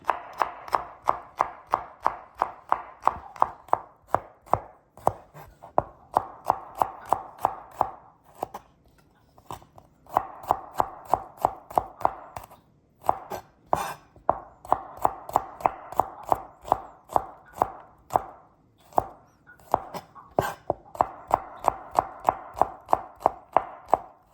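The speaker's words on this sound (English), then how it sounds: "I'm just going to mince it up" A kitchen knife rapidly mincing food on a cutting board while preparing shaking beef, with dense, steady chopping taps in bursts separated by short pauses, close and fairly loud throughout.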